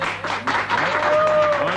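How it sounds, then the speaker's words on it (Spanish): An audience on a 1997 Argentine TV variety show applauds a poet, a short, dense burst of clapping with a faint tone sustained underneath. "Un aplauso grande para él"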